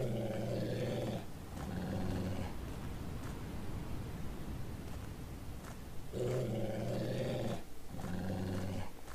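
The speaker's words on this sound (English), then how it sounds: "But I don't want to go near the bad doggy." A monster dog in a video game growls and roars in two loud, sustained bursts near the start and end, with a quieter rumbling stretch between them.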